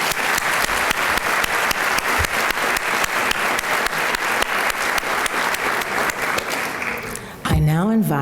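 A luncheon audience at a 40th anniversary gathering gives a steady round of applause for special guests, dense clapping throughout that ends abruptly as a voice begins speaking.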